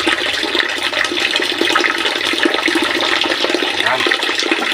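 Water runs steadily from a tap while raw pork is washed, a loud continuous splashing gush under the whole stretch with no talk.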